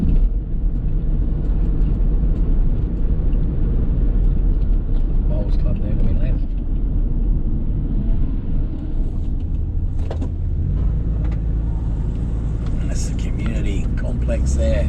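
Continuous rumble of a car driving through Deception Bay, Queensland, with steady road and engine noise and someone talking over it.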